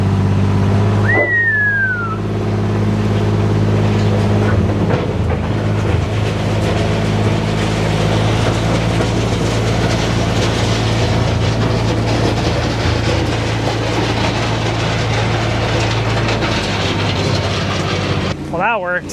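A vehicle engine labors steadily in low gear while pulling to load a skid steer bucket, a constant close drone running throughout with a brief whistle-like squeal near the start and a clunk at the end.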